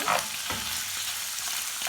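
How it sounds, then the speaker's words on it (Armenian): Food sizzles steadily in a hot pan, a continuous close hiss of frying oil with no talking. "Փոքր շատ քիչ ենք տապակում, մոտավոր 3-ից 5 րոպե"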